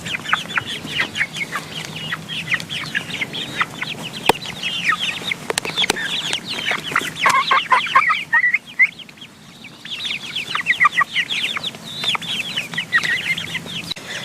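Pet chickens cluck and chatter steadily at close range while pecking at collard greens, with busy overlapping calls that briefly thin out midway before resuming.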